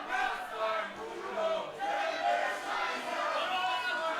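A wrestling crowd at a GWF show in Berlin roars and chants in a sustained, dense wall of cheering and yelling that swells and dips without pause.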